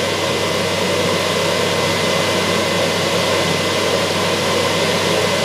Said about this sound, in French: Maintenant je vais ouvrir mon volet de mélange.